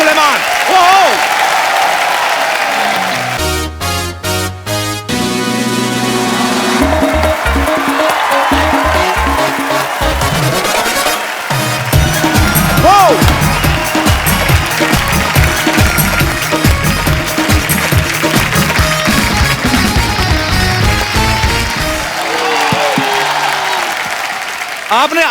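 Studio audience at a televised comedy show applauding and cheering as musical guests are welcomed, a loud dense wash of clapping mixed with band music and stage sounds, continuous for the whole stretch.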